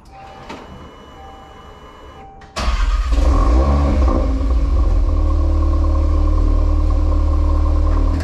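A car engine cranks and fires up after a few seconds of quiet cabin hum and clicks, then settles into a loud, steady idle that continues close by to the end.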